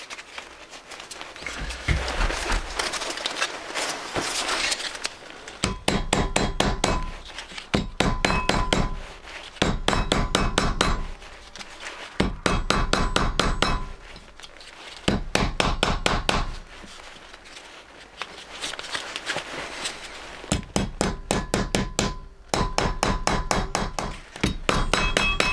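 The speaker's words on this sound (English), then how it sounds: "When in doubt, use a bigger hammer." A hammer strikes repeatedly during knife making, delivering loud, fast runs of close metallic blows in regular bursts with short rests between them.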